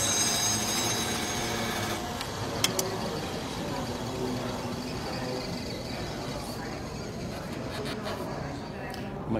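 A professional gem cutter's faceting machine runs at about 900 RPM while a gemstone from Malawi is cut, giving a steady, broad mechanical whir with grinding texture that holds evenly throughout, close by, with a couple of brief clicks and a voice talking underneath.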